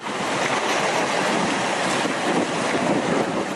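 Loud, constant roar of wind and crashing storm waves over 3 metres high on the Turkish coast at Ayvalık, dense and unbroken throughout, with no voices.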